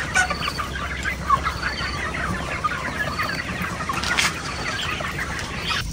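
Chickens on a chicken farm clucking and squawking near and far, a busy flock of overlapping calls with no talk.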